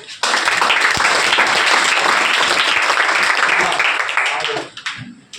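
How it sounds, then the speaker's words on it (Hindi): Audience at a school event welcoming top students with strong applause, loud and steady for about four seconds before fading out, with a voice speaking briefly at the close. "मैं चाहूंगा एक बार जोरदार तालियों के साथ आपका भी स्वागत करें"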